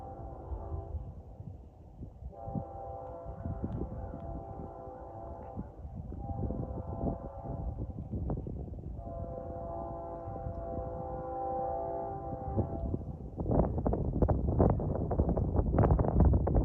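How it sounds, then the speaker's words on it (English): A BNSF intermodal stack train passes at about 65–70 mph, with long sustained horn blasts over a deep, continuous rumble and wind buffeting, growing louder and rattling near the end. "This is probably some type of intermodal train."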